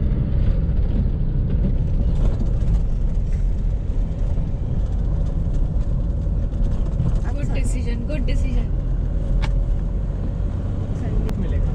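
Slow, congested traffic on a road in Goa, a continuous low engine drone and road noise at close range, with brief clicks and faint passing higher tones near the end and some voices in the background.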